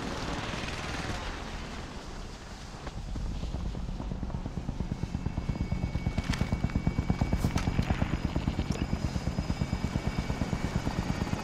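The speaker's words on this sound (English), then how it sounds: "Helo coming in for deposit." In the video game Call of Duty: Modern Warfare, an extraction helicopter arrives, its rotor chop growing into loud, rapid, evenly spaced thumps over a droning engine.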